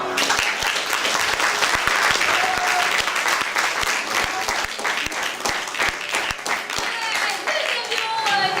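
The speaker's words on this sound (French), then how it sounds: "Je vous demande d'applaudir bien fort notre fille de ce soir, Marion." Enthusiastic audience applause at a teen improvisation theatre show, with dense, loud clapping and sharp individual claps standing out, sustained throughout, with faint crowd voices mixed in.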